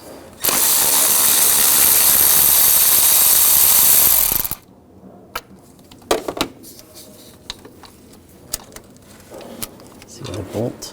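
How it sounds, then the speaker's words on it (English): A ratchet with a 13mm socket works bracket bolts loose on a 2000-2006 BMW X5 during a power steering reservoir hose job, one loud sustained four-second burst followed by scattered faint clicks and clanks. "Use a 13mm socket. Take those bolts out."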